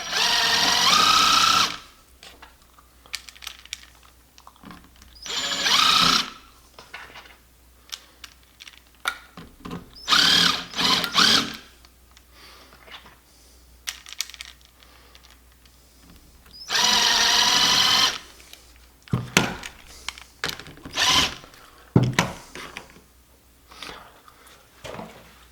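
A power drill drives screws into wood while building a two-player bartop arcade cabinet, giving several loud whirring bursts of a second or two each, separated by quieter clicks, handling and short repeated drill pulses.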